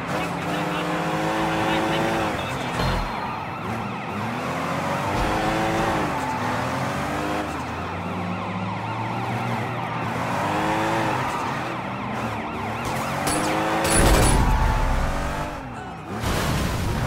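Car chase in the Sleeping Dogs video game, with revving engines, tire squeals and crash impacts over a steady wailing police siren in the background, while game characters talk throughout.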